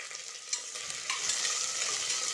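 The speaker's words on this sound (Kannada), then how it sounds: "ಕಲರ್ ಚೇಂಜ್ ಆಗೋವರೆಗೂ ಫ್ರೈ ಮಾಡಬೇಕು." Onion, bay leaf and green chillies fry steadily in a pan, a continuous bright sizzle with a few stirring scrapes, growing slightly louder partway through and heard alone.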